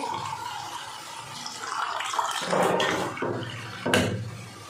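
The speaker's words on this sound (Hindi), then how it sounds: "बस अभी स्टेज पे हम पानी ऐड इसमें अभी पानी ऐड कर दूंगी" Water poured into a frying pan of pointed gourd curry gives a close splashing and sizzling hiss in uneven surges, with a brief clatter near the end.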